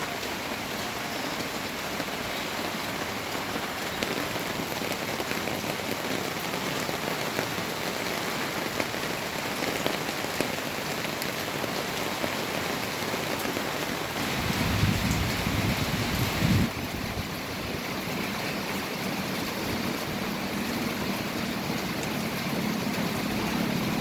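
Heavy rain pours steadily onto sun-scorched garden plants in Negros, a dense continuous hiss with a brief low rumble swelling near the middle, no voices.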